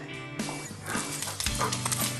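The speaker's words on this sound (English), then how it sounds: "But when you're ready to play, you're ready to bark, aren't you?" A dog gives a few short, lively barks and yips close by, mixed with handling noise and movement in a room, excited as it gets ready to play.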